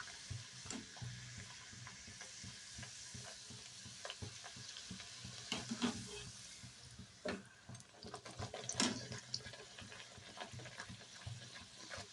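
Pea kachori (koraishutir kochuri) frying in a pan of hot oil: a steady, close sizzle with crackling bursts and occasional scraping from stirring, no talking.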